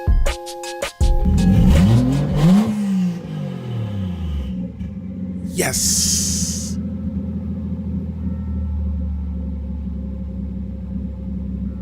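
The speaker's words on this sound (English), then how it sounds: "And with fuel running to the engine, we can start it up." A Toyota 1JZ engine swapped into a Lexus GS300 cranks, catches and revs loudly, then settles into a smooth, steady idle rumble; a voice briefly cheers after it fires up.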